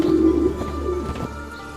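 Pigeons coo in a short low burst, close and steady, with faint outdoor ambience behind.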